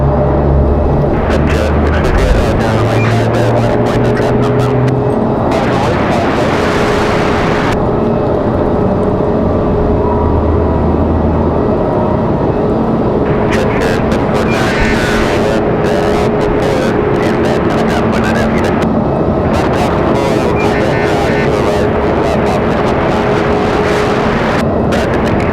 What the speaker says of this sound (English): Getting that Air France 777 right up close.